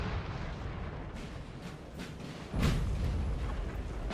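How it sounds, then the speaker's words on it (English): Artillery in Napoleon Total War, a battle with 6-pounder guns firing toward the enemy: a steady rumbling din of distant cannon fire, with a louder booming shot bursting out partway through and the rolling roar sustained afterward. "Got the artillery though firing in their direction"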